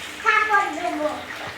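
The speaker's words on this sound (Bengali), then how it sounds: "মাথায় জল নাও, মাথায় জল নাও," Water splashing and pouring during a child's bath, heard close alongside a voice that rises and falls over the short stretch.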